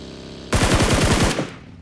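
Machine-gun fire in the mobile shooter game BGMI, a single loud burst of about eight rapid shots lasting under a second, abrupt and close, with no talking over it.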